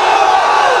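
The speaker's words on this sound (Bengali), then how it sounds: "আল্লাহু আকবার জোরে দিতেছে" A large crowd roars a loud, sustained takbir chant in unison at an outdoor Islamic religious gathering, the massed voices filling the whole moment with no pauses.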